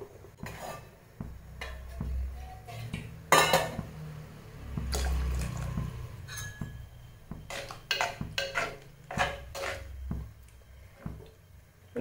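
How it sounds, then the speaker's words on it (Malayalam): Water is poured into a pumpkin, ash gourd and onion sambar with roasted ground paste in a clay pot, giving soft liquid splashes mixed with clinks of a ladle and pot, fairly quiet and without talk. "ഒന്ന് ലൂസാക്കാൻ കുറച്ച് വെള്ളം കൂടെ ഒഴിക്കാം."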